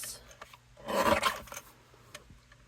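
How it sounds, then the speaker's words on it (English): A short rasp of blade against cardstock as paper is trimmed for a handmade card, one brief scraping stroke in the middle of an otherwise quiet moment. "let's trim this up a little bit first"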